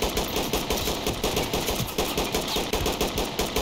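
Rapid automatic gunfire rattles through a video game roleplay shootout in steady, evenly spaced bursts that sound moderately distant, with no voices over it.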